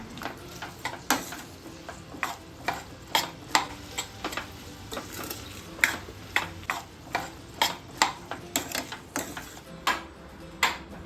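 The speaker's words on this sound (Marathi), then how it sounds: "आता भाजी एकदम व्यवस्थित आपल्याला मिक्स करून घ्यायची आहे" Spoon scraping and stirring spiced vegetables coated in hot Malvani masala in a pan, a steady run of sharp, rhythmic clinks and scrapes about once a second, close and moderately loud over a faint background sizzle.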